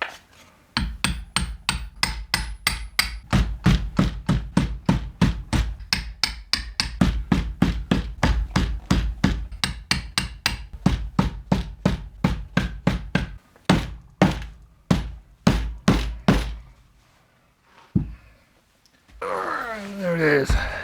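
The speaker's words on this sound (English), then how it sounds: "let's try and rivet this together." Rivets being hammered into a homemade backpack made from a sofa cover and old seatbelt: a long run of sharp, evenly spaced hammer blows, close and loud, then a few slower strikes and a pause before rustling.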